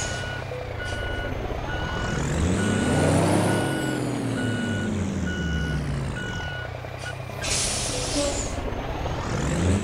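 A MAN 520 truck turns around at a harbour in Euro Truck Simulator 2, with a steady reversing beep pulsing over a loud engine drone and a sharp air-brake hiss near the end.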